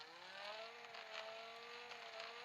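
Car engine in a driving video game, revving with pitch climbing and settling in steady sweeps, fairly quiet overall, with a few brief sharp accents along the way.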